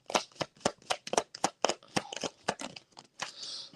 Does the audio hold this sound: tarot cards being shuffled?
yes